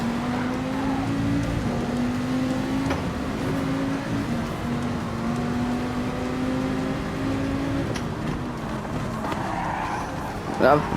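Race cars, including a Dodge Viper and a Ferrari, run side by side at Daytona in a racing video game, with a steady engine drone rising and falling through gear changes under a talking voice.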